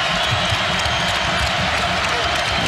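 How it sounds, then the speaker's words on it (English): Basketball arena crowd at a college game between Marquette and Wisconsin, cheering and applauding as a steady, dense roar of clapping and voices that fills the space without pause. "The crowd trying to convince itself to get involved again"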